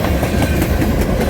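A long train rolls past close by on railroad tracks beside a camp, a steady loud broadband rumble with rhythmic clickety-clack of wagon wheels over rail joints, no voices.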